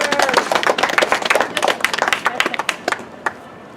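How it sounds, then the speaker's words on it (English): A small tour group claps briefly in a close, scattered patter of individual hands that thins out and trails off into a few last claps. "Please, round of applause for Charles"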